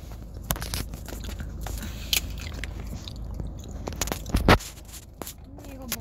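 Chocolate being bitten and chewed up close, with crunchy bites and wet mastication noises over a steady background, while people talk in Korean.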